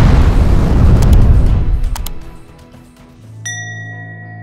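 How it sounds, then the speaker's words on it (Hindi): A Western Airlines airliner crashes into a service building and blows up, a loud, deep explosive roar at the start that fades over about two seconds, followed by scattered metallic clinks and a sustained ringing tone. "एक तेज धमाके के साथ प्लेन में आग लग जाती है।"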